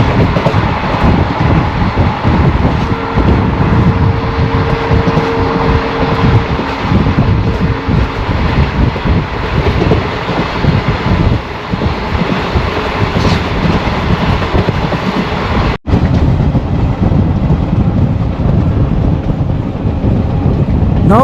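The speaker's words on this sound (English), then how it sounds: "Capturing this view from a moving train with the wind brushing past and the rhythmic sound of the wheels below" Rhythmic clatter of wheels on rails rolls steadily beneath wind rushing past a moving superfast express train between Bhavnagar and Botad in Gujarat, loud and continuous with a brief dropout near the end.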